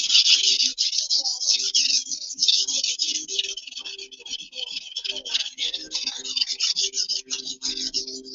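A knife edge is sharpened to remove worn steel, giving steady, close rasping strokes that rub back and forth in a continuous rhythm for the whole stretch.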